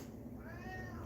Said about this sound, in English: Or cat meow.